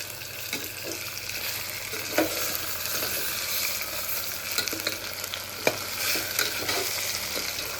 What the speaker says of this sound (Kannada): ಈ ಚಿಕನ್ನ ಇದ್ರೊಳಗೆ ಹಾಕಬೇಕು